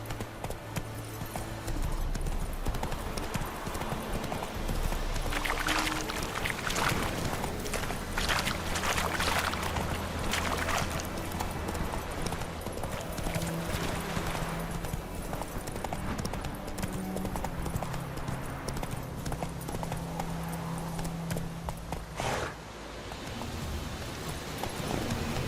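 Roach, Geralt's horse in The Witcher 3: Wild Hunt, gallops with a steady, rhythmic clip-clop of hooves that runs continuously and loudly throughout, with brief music-like tones underneath.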